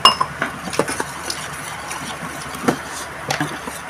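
A spoon mixes roasted gram sattu flour with a little water in a glass, giving irregular sharp clinks and light scraping against the glass, close and fairly clear.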